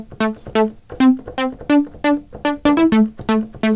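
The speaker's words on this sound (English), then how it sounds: "this is called a pluck" Short synth plucks with a low-pass filter envelope that snaps shut and lets each note ring out briefly, about a dozen tonal notes in a bouncy melodic rhythm, clear and close, no voices.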